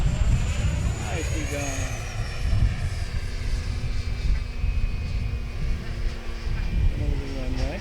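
An RC model jet, a FlyFans J-20B, flies overhead with power added, its ducted-fan whine rising and falling in pitch as it passes, loud and continuous, while a person speaks briefly.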